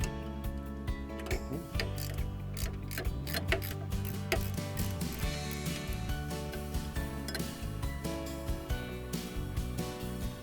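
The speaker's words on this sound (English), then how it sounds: "So now we've taken the bolts out, we can lift it out." A ratchet tool works on bolts of a Cobra Fortis lawn mower, a rapid, repeated clicking and metallic ratcheting in quick bursts, close and clear, with no talking.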